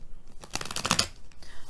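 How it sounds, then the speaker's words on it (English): Tarot cards being shuffled by hand: a short burst of crisp riffling and flapping card noise lasting about a second, fairly close, with softer rustling on either side and no talk. "Shuffling is giving me problems."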